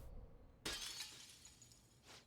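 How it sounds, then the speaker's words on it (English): Glass shattering effect in the video game Persona 5 Royal, a sudden sharp crash followed by glittering tinkling debris that fades, with a softer swish near the end. "Reality shattering before your very eyes."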